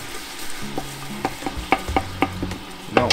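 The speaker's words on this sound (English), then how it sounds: "You gotta constantly stir." A spoon scrapes and taps as flour is stirred constantly into a roux for duck gumbo, producing irregular sharp knocks over a low sizzle, close and clear with no voices.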